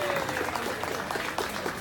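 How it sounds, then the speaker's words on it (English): Audience clapping for Cambodian dance performers at a Robam Apsara event, a brief, dense, steady burst of applause from a crowd. "Everybody give another round of applause for all of our performers."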